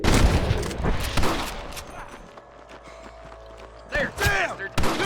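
Gunfire in a shootout from the video game Red Dead Redemption, with sharp shots bursting in close and loud at the start and again near the end, mixed with shouted game dialogue.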